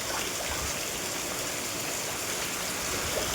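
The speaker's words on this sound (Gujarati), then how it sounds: "સરસ મજાનો વરસાદ પડી રહ્યો છે ભાઈ" Heavy rain pours down in a sudden downpour, a steady, dense hiss that stays even and close throughout with no voices.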